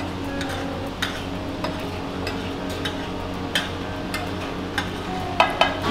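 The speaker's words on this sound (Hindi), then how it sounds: "फिर से इसको अच्छे तरीके से मिक्स कर लेंगे।" A spoon stirs pav bhaji with Everest masala in a pan, scraping and clinking against the metal in irregular strokes over a soft sizzle, close and moderately loud.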